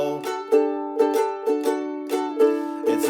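A ukulele strums the verse of a Christmas song using suspended chords. Bright, evenly spaced strums fall roughly every half second, each chord ringing briefly before the next, with no voice.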